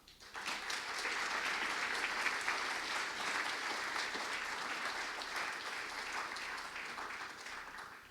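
Audience applause welcoming Dr. Beebe to the stage at a talk, a dense, sustained clapping from a crowd that swells within the first second and holds steady for about eight seconds before tapering slightly.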